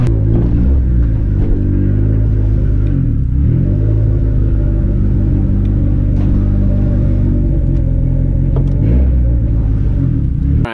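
A turbocharged Honda Civic engine running on E77 fuel revs hard and close, a loud continuous rumbling roar whose pitch climbs and dips through several throttle pulls, with no talk.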